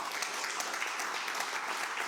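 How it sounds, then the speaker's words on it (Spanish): A church congregation claps steadily and densely for a couple of seconds, a continuous patter of many hands without any voices standing out. "esto es de darle un aplauso a Cristo"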